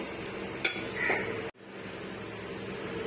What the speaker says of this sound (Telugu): ఇలా తిప్పుకొని ఫ్రై చేసుకుంటూ ఉందామండి.